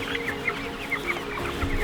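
Chickens clucking in short, soft bursts over a steady background hum, fairly close but not loud.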